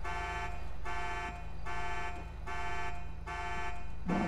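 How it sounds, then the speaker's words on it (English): Car alarm blaring in GTA V, a steady electronic tone pulsing in regular long bursts over a constant engine-like hum, loud and close throughout with no talk. "Why is the alarm still going off?"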